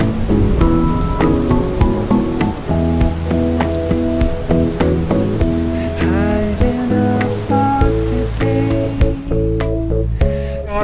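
Rain falls steadily during a road trip, a continuous patter beneath prominent sustained musical tones that play throughout.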